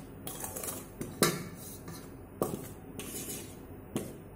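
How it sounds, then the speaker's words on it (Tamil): Sugar and roasted green gram flour being mixed together for Diwali sweets, with a spoon clinking and scraping against a metal vessel in irregular, fairly quiet strokes. "இப்போ இது ரெண்டையும் நல்லா ஒன்றோட ஒன்று சேர்கிற மாதிரி நல்லா மிக்ஸ் பண்ணி விட்டுக்கலாம்."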